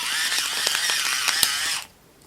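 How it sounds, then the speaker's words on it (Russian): A pepper mill grinds fresh pepper over a winter dinner marinade in a village kitchen, giving close, steady ratcheting crunches for about two seconds before it stops. No one speaks. "Свежемолотый перец."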